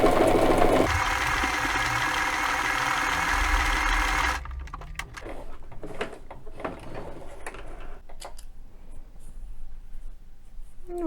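Domestic sewing machine running a zigzag stitch on sweater knit to make a sock, a steady loud mechanical whir for about four seconds, then stopping and leaving quieter handling clicks and rustles.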